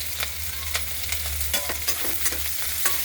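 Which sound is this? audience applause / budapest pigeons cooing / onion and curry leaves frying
onion and curry leaves frying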